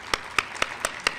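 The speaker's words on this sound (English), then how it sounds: "we'll tell you that we clap for you" A few claps from an audience at a health conference introduction, five sharp separate hits spaced evenly and fairly quiet, with no talking over them.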